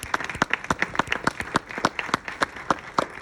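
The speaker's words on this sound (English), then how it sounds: "Give Johnny a round of applause." A small audience applauding at a film festival Q&A in Denver, with distinct, individual claps in an uneven but steady rhythm, fairly close and clear.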